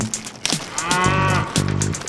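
A dairy cow moos loudly and close, a long drawn-out low call with a brief second bellow, set against a faint farm background.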